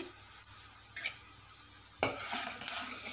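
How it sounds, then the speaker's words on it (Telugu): Coriander seeds and cumin frying in two spoons of oil in a kadai, a soft steady sizzle with a few light scrapes and stirs of a spoon against the pan, no talking. "ఒక కడాయి పెట్టుకొని 2 స్పూన్ల ఆయిల్ పోసి, కొన్ని ధనియాలు, కొద్దిగా జీలకర్ర వేసి"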